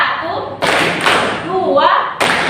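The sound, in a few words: children clapping hands in a rhythm exercise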